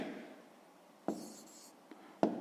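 Pen or chalk writing out a division equation for a fifth-grade maths exercise, heard as a few short scratchy strokes and taps, quiet and close, with faint room hiss between them.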